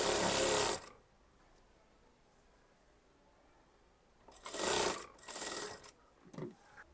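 Sewing machine stitching a folded sleeve on an Anarkali kurti, with a fast whirring burst at the start, then quiet, followed by two more close, loud runs of stitching and a short final one.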